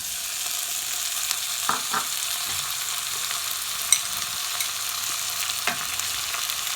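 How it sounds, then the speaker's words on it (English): Onions and finely chopped tomatoes fry in a pan with a steady, soft sizzle, broken by a few brief scraping stirs partway through; no voices. "Now our onions have cooked very well, about 3 to 4 minutes, to which I'll be adding in 2 finely chopped tomatoes,"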